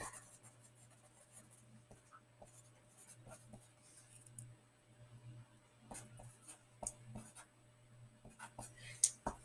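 A pen scratches quietly across a paper note card, faint soft strokes and small taps close by in a still room, with a low steady hum underneath.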